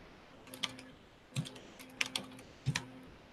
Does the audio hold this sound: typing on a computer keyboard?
yes